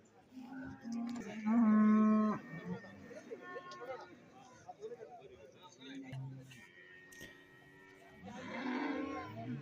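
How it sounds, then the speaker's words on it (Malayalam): Buffaloes at a busy roadside cattle market in Pallikkal, Thiruvananthapuram: several drawn-out lowing moos, one loud and near, rise over a crowd's chatter and background noise, while someone talks over it. "ഇവിടെ ഒരു വലിയ പോത്ത് നിൽപ്പുണ്ട് കുറച്ച് നല്ല പോത്തുകൾ സെറ്റായ പോത്തുകളാണ് ഈ ഈ ഭാഗത്ത് നിൽക്കുന്നത്"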